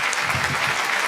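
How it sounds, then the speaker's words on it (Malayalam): Applause for twelve contestants at an elimination-round stage show, a dense burst of many hands clapping, loud and even, with no talk over it. "നമുക്ക് ഈ അവസരത്തിൽ നല്ലൊരു കൈയടി കൊടുക്കാം"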